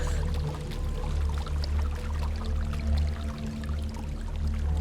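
A waterfall in the video game Hellblade: Senua's Sacrifice gives a continuous broadband rush of pouring water, steady and moderately loud throughout, with no voices.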